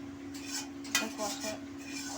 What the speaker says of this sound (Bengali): কম আঁচ করে একটু কষিয়ে নিই।